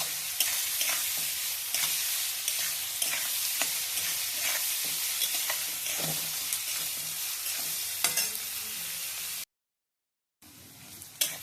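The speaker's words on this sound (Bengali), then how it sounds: "পেঁয়াজটা একটু ভাজা ভাজা মতো হয়ে গেছে" Onions frying in a pan while being stirred for a thin jungle fowl curry, a steady sizzle broken by repeated scraping strokes of the spoon, with a brief silent gap near the end before the sizzle returns.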